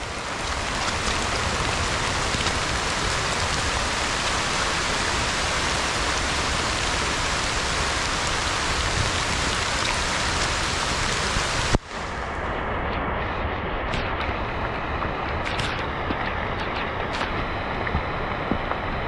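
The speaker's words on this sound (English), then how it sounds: "I've never been in a real tropical rainstorm away from shelter before" Heavy tropical rainstorm pouring down outdoors with no shelter, a dense, steady roar of rain hitting surfaces that continues throughout, briefly shifting in tone partway as the downpour keeps going.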